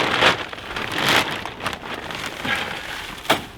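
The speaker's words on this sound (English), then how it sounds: "we're going to fill the tray with hemp" Dry hemp bedding pours and rustles into a hen nest tray, a steady granular hiss with a few louder bursts near the start and a sharp rise just before the end.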